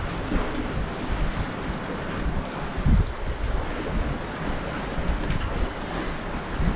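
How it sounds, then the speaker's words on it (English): Strong wind blows across a Galveston beach, buffeting the microphone with a loud, continuous rumbling roar and gusty bursts, with surf faintly mixed in. "kinda windy out here"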